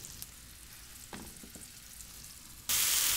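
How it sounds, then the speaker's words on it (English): Pork chops cooking in a preheated skillet thinly coated with oil, a soft, steady sizzle with a few faint clinks, then the frying jumps to a loud, bright hiss near the end. "I've got a skillet all heated with a little bit of oil coating the bottom of it"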